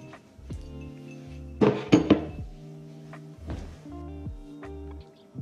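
A small spoon clinks against a cup of matcha in a brief cluster of bright, ringing taps near the middle, with a quieter clink afterward over soft background music.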